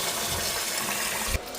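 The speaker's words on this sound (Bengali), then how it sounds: "তো ওইদিকে চালটা আগে ধুয়ে নিই" Rice being washed under running water in a home kitchen, a steady rushing gush of water filling and splashing that cuts off abruptly near the end, with no talking.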